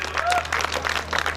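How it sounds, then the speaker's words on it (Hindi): An audience at a mushaira poetry gathering claps in applause, a short burst of mixed hand claps from a crowd with a voice briefly audible over it. "एक बार जोरदार तालियां बजाइए।"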